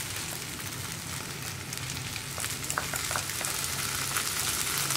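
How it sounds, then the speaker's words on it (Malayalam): Puttu and chicken fry in a pan while being stirred, giving a continuous crackling sizzle with soft scraping that grows slightly louder toward the end, with no voices. "കുക്കായി തുടങ്ങുമ്പോൾ ഇതുപോലെ പതുക്കെ ഇളക്കി കൊടുക്കാം ഇതിൻ്റെ കൂടെ തന്നെ നമ്മൾ എടുത്തു വെച്ചിരിക്കുന്ന ചിക്കനും കൂടി ചേർത്ത് കൊടുക്കാം"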